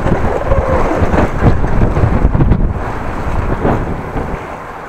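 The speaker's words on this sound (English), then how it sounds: "I think, by the way, the wind is picking up. You maybe noticed on the noise of the camera" Loud, continuous buffeting wind noise battering a camera microphone outdoors on a windy morning, a dense rumbling roar with gusts rising and falling, no speech heard.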